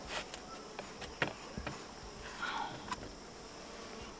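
Honey bees buzz around a queen cage, a soft steady insect hum with a few brief louder passes near the microphone, faint overall.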